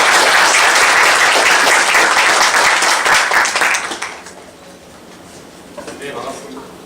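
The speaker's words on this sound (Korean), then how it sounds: "큰 박수 부탁드릴게요" Audience at a landscape architecture lecture at a university breaks into loud, dense applause welcoming a speaker, sustained for several seconds before tapering off into quieter room sound with a few scattered claps.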